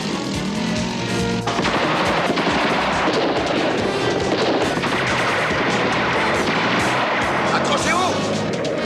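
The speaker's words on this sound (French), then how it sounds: "Les pneus! Tirez dans les pneus!" Rapid gunfire aimed at a car's tyres, dense overlapping shots in a continuous loud barrage over engine and action noise, with shouting voices mixed in throughout.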